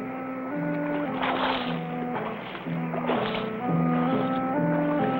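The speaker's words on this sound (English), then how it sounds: "here's a board I can use for a paddle" A makeshift board is used as a paddle to row a small boat, giving a couple of splashing water strokes beneath a steady musical score in a cartoon scene.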